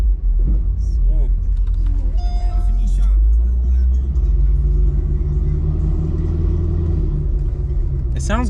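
A Mercedes-AMG car's engine rumbles loudly and deeply in a NASCAR-like tone, a steady heavy drone with occasional revs, heard close from inside the car while people talk over it.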